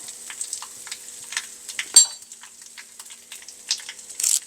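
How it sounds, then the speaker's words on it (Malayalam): Mustard seeds crackle and splutter in hot oil for a Kerala brinjal pachadi, a close, steady patter of sharp little pops with one louder snap, no voices. "എണ്ണ ചൂടായാൽ നമുക്കതിനകത്തേക്ക് കുറച്ച് കടുകിടാം"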